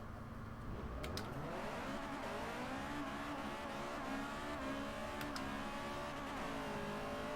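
A 1997 Honda Type R in Forza Motorsport 4 drives continuously, its engine note rising through revs and shifting gears, loud and steady with brief tire squeals and no talk.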